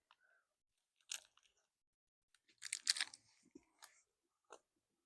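Crisp, crunchy bites and chewing of a USA MRE pasta in tomato sauce, with a few isolated crunches and then a dense burst of crunching, close up in otherwise quiet surroundings.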